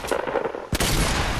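Gunfire in a video game: a loud, abrupt burst of shots breaks in halfway through and continues as dense, sustained noise after a brief stretch of rougher sound.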